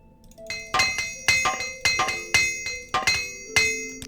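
A repair hammer in the video game Morrowind strikes metal in a steady series of about eight ringing clangs, each with a bright metallic ring that decays before the next blow, loud and close with no talking.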